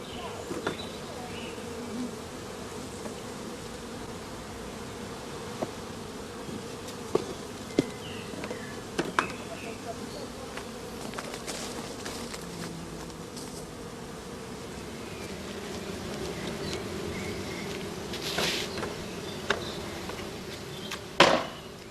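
Honeybee swarm droning in a dense, continuous buzz, with individual bees zipping past the microphone and a few sharp knocks scattered throughout.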